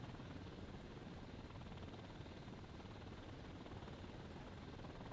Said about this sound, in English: I'm amazed you're not being blown away by the helicopter